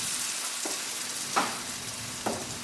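Falafel frying in hot oil gives a steady, close hiss of sizzling, broken by a few soft splashes or bursts.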